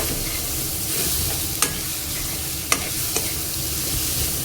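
Coarse, dry Bombay duck chutney paste is sautéed and stirred in a pan, giving a steady soft sizzle with a few sharp scrapes of the spoon against the pan, close and alone.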